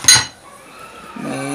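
Homemade pot-scouring soap mixed with toothpaste is stirred in a container, a single sharp clink of utensil against the vessel followed by faint scraping and a low tonal hum.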